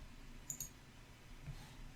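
Two quick, faint clicks from a computer mouse sound close together in a quiet room.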